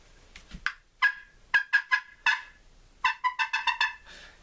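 Hunter's turkey call imitating a fly-down cackle: scattered sharp yelps that accelerate into a quick, uneven burst of loud, close notes, with no talking.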